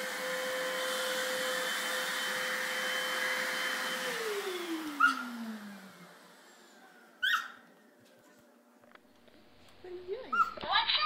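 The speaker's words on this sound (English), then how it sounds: "are you vacuuming?" A household vacuum cleaner drones steadily at close range, then its motor winds down and stops midway, followed by scattered thumps and a voice near the end.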